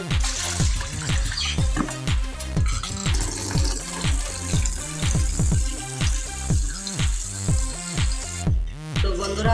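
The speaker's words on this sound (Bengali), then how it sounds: "ভালোভাবে ধুয়ে নিতে হবে শাকগুলো" Leafy greens are swished and rinsed in a basin of water, giving repeated rhythmic splashes and trickles with dripping in between, close and fairly loud, with no talk.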